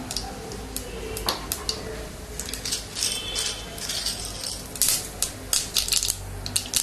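Mustard seeds spluttering in about 25 ml of hot oil in a dry-roasted pan, scattered sharp pops and crackles in quick irregular bursts, close but fairly quiet, with no talk.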